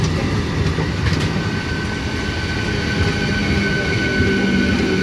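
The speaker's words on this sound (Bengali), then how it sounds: "আপ লোকাল ট্রেনটি ব্যান্ডেল রেলওয়ে জাংশন অভিমুখে যাচ্ছে।" An up local train on the Eastern Railway runs towards Bandel Junction with a loud, continuous rumble of wheels and carriages and faint rail squeals, sustained and close throughout.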